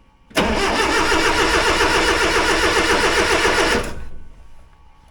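A 1963 Hillman Super Minx engine, primed with a little fuel, cranks and catches at once, running loud and steady for about three and a half seconds before cutting off abruptly and dying away.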